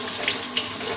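Tap water runs steadily into a sink while a makeup brush is given a final rinse, a close, continuous hiss with small splashy surges and no talking.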